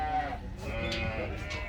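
Sheep bleat at a livestock market, a wavering, nasal call rising over a busy, noisy background of crowd murmur and other animals, fairly close but not loud.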